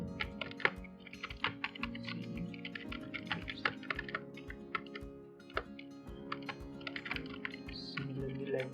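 Steady rapid keystrokes on a computer keyboard while someone writes C++ code in VS Code, close and continuous, with a person talking over the typing.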